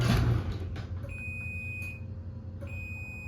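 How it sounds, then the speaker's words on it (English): A garage door opener beeps during a force test in a home garage: a steady high-pitched tone sounds twice, each lasting under a second, over a low running hum and no talk. "This one does beep."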